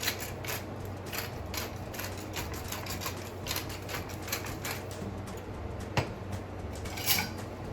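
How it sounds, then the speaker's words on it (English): Salt and pepper being ground over raw chicken for coq au vin: a steady run of soft clicking, ratcheting grinder sounds with light clinks, close and moderately quiet, no talking. "I'm going to season it with a little bit of salt and pepper."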